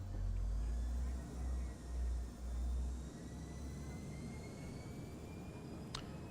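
Embraer E-Jet airliner engines spooled up to takeoff thrust in Microsoft Flight Simulator, a steady broadband roar with a deep low rumble that pulses for the first few seconds and then settles into an even hum.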